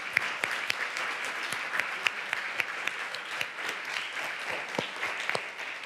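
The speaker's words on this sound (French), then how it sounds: "J'aimerais quand même qu'on les applaudisse." Conference attendees give sustained, moderately distant applause, a dense patter of many hands clapping steadily for several seconds in a hall.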